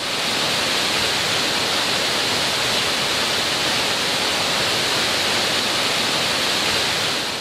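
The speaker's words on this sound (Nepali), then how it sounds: "प्राकृतिक रूपले भरिपूर्ण जङ्गलको फेदमा रुवालुङ झरना रहेको छ" The Ruwalung waterfall, about 100 metres high and set at the foot of a forest in Khotang, roars with a dense, constant rush of falling water, loud and unbroken throughout.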